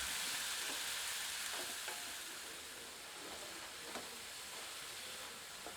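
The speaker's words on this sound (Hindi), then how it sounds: "आंच को मध्यम कर लेते हैं और प्याज को तब तक भूनते हैं" Ground onion fries with cloves in a pan on medium heat, a steady soft sizzle and hiss running throughout with a few faint stirring scrapes, no voices.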